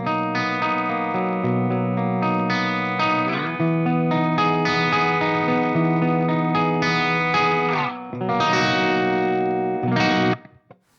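An Ibanez AS7328 baritone guitar on its bridge humbucker rings out sustained, chorus-washed chords with reverb tails, steady and close for several seconds before the last chord cuts off near the end.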